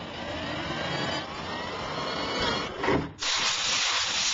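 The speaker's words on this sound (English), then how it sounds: "although I completely hate sanding down this beast" A large part for a home-built aircraft is being sanded, producing loud, continuous, close abrasive rasping that runs steadily and then briefly breaks before starting again. No one speaks.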